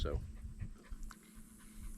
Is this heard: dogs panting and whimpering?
yes